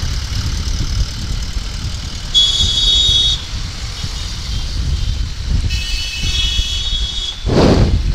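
A motorbike engine runs before a ride, a steady low rumble near at hand, broken by a few short, sharp higher-pitched bursts.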